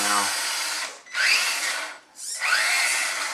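Electric motor of a Tamiya Highlift Toyota Tundra RC truck, converted, whining loudly in three bursts as the throttle is applied in first gear, each burst rising in pitch with brief pauses between.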